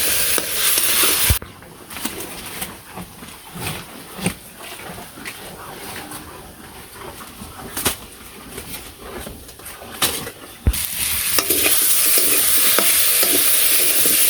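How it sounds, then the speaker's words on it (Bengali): Potatoes fry and are stirred in a pan, a continuous sizzle broken by sharp scraping strokes, with pigeons cooing faintly in the background. "আলুগুলো ভালো করে কষামু,"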